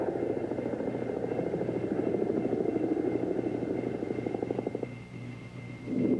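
A helicopter flying, its rotor making a steady pulsing chop and engine whine that stays fairly close and even, then briefly drops away before surging again.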